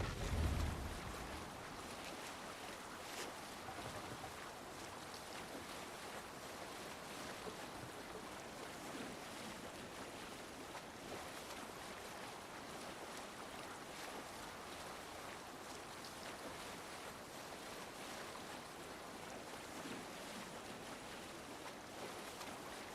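A Viking longship under sail at sea in Assassin's Creed Valhalla, with a steady wash of wind and rushing water, broadband and continuous, faint and even throughout, with no voices.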